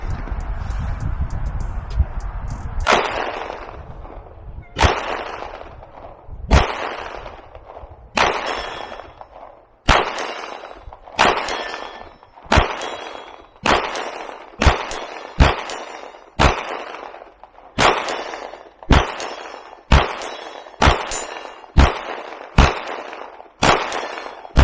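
A CZ P10c pistol fires bulk ammunition at a 50-yard range, loud sharp cracks with ringing decay, slow and spaced at first, then a faster steady string of shots.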